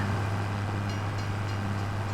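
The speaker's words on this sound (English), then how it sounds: "Quick, the barriers are about to go down. There's a train coming." A train rolling past a level crossing in the video game Farming Simulator 25 gives a steady, loud low rumble with a constant drone, sustained without change and with no voices.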